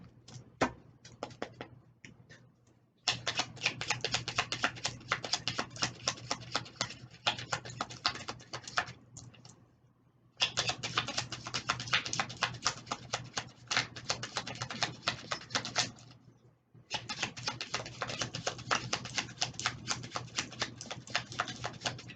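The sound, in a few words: tarot cards being shuffled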